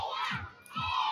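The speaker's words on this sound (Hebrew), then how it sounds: "תעודדו חזק, ובואו נשמע." A crowd of children at a magician's kids show cheers and shouts loudly in two surging bursts, close and energetic, with no talking over it.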